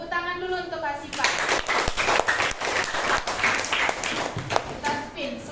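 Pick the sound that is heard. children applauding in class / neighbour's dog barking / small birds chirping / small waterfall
children applauding in class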